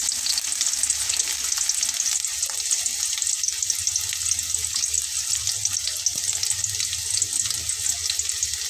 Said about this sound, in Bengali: তেলটা গরম হয়ে গেছে, এবার আমি তার ভিতরে পেঁয়াজগুলোকে দিয়ে নেব।